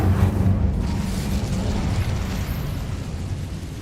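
An Incendio fire spell cast in Hogwarts Legacy, a loud whooshing burst of flame that hits at once and then fades into a roaring, rumbling tail, with no voices over it.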